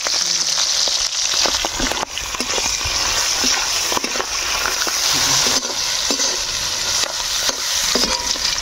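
Fish air bladders fry in hot mustard oil with a dense, steady sizzle and crackle, close and loud, broken by the occasional scrape of stirring in the pan.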